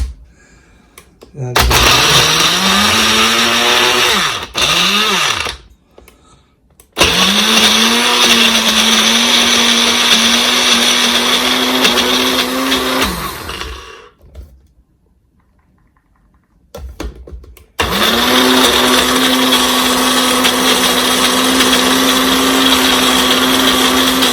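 A kitchen blender grinding ingredients for chicken curry, loud and close, whirring in long bursts that rise in pitch as the motor spins up, with short pauses between runs and a longer stop near the end.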